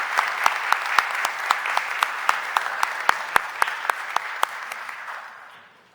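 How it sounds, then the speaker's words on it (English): Applause fills a city council chamber during a stated meeting, a loud, sustained crowd clapping with a few sharp individual claps standing out, fading out near the end. "a great big round of applause"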